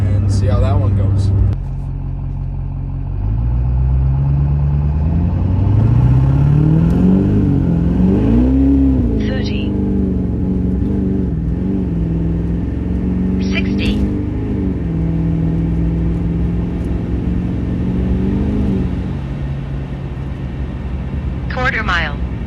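A tuned truck engine revs hard and loud from close by, climbing and falling in pitch over sustained acceleration runs, with a brief lull near the start and a faint higher whine near the end.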